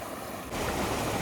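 Stream water flows between big rocks at a scenic spot near Malkangiri, Odisha, a loud, steady rushing wash that swells after a moment.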